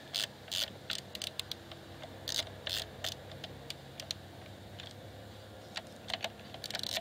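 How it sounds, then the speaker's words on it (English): Ratchet clicks in quick irregular bursts while valve cover bolts are run in on a Mercedes M112 V6 or M113 V8 engine, faint and close, with a low background hum and no talking. "now I'm just going to put the valve cover bolts in"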